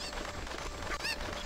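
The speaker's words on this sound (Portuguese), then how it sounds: "Eu quero uma galinha" Cucco chicken in the Zelda: Ocarina of Time video game giving a short, honking squawk, close and clear, with no talking.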